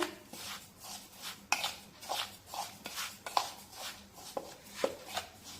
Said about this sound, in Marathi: आता हे सर्व साहित्य व्यवस्थित मिक्स करून घेऊया